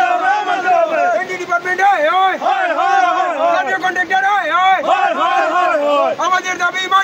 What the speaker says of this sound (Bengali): স্থানীয় ঠিকাদার এবং বিভাগীয় কর্মীদের বিরুদ্ধে মুর্দাবাদ স্লোগান দিচ্ছেন এলাকার জনগণ